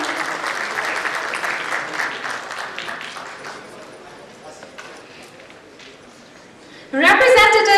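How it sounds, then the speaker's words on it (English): Loud crowd applause that gradually fades, then a sudden burst of louder noise at the end. "Please welcome him with applauding hands"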